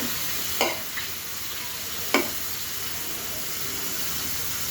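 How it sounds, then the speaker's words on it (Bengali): Sliced onion sizzles in soybean oil for a pumpkin bhaji in a steady, close hiss, broken twice by sharp scrapes of a metal spatula against the pan. "সয়াবিন তেল দেওয়ার পরে এটাকে আমি হালকা করে খুন্তি দিয়ে ভেজে নেব পেঁয়াজটাকে।"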